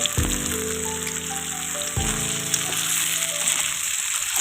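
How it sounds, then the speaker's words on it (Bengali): Eggplant pieces frying in oil in a kadai for a hilsa fish curry, giving a steady close sizzle and crackle throughout, with faint background music tones and no talking. "আমি বেগুনগুলো ভালো করে ভেজে নিব লাল লাল করে।"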